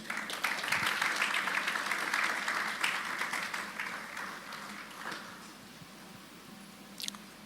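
Audience applause at an agricultural business conference, a dense sustained clatter of many hands that holds steady for several seconds, then thins and fades out, with a brief sharp sound near the end.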